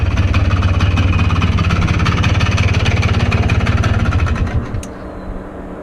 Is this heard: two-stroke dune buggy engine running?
yes